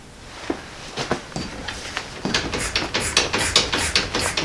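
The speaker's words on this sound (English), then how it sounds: "Let's go ahead and give her the bounce test." A Model A hot rod shop truck rocked on its new shock mounts, a series of dull knocking thumps that quicken into a rapid rhythmic bounce, close and fairly loud, with no talking.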